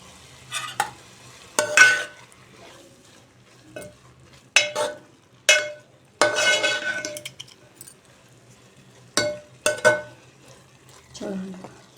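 Grated carrots fry in ghee for carrot halwa, stirred in bursts of scraping and clinking against the pan with a soft sizzle between, close and moderately loud, with a low steady hum underneath.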